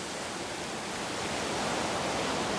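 Steady, loud broadband rush of a waterfall in a secret, hidden spot surrounded by caves and walls of ice, a continuous roar with no pauses and no voices.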